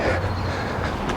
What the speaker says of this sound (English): Right, so that's the train gone.